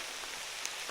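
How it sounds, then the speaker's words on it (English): Hail and heavy drops pelt a trekker's jacket and the ground during a Himalayan downpour in Nepal, a dense close-up patter with one or two sharper ticks. "This is the first proper downpour. Yes, it's hail."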